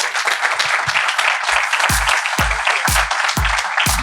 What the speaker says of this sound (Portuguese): peço uma salva de palmas para o Henrique Sanches.